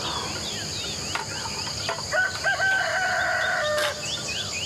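A rooster crows with a long drawn-out call in the middle of the clip, while crickets chirp steadily and other fowl cluck in the background, all outdoors with no talk.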